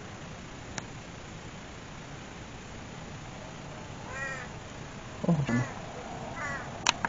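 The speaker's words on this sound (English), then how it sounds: "See, right there, there's a bird." Crow cawing outdoors, a few fairly faint harsh caws spread over a steady hiss of outdoor background noise, with a brief voice and a couple of sharp handling sounds near the end.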